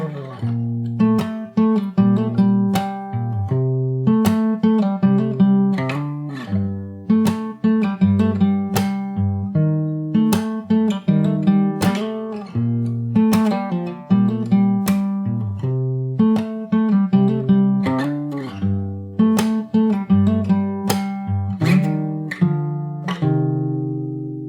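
Verse played slowly on fingerstyle acoustic guitar, with plucked bass notes under repeated chord arpeggios in an even, steady rhythm. The guitar is close, clear and alone, with no voices.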